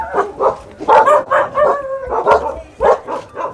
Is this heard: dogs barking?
yes